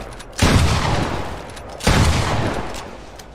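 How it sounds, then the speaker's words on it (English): Gunfire from the video game Fortnite as targets are shot during aim practice, two loud, sharp blasts about a second and a half apart, each trailing off into a long decaying tail. "You want to jump and just shoot the target."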